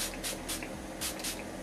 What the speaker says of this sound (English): I'm gonna just spray my face with the Vitamin E Skincare Hydrating Mist.